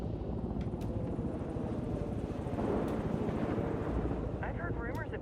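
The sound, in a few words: helicopter flying, from video game Ghost Recon Wildlands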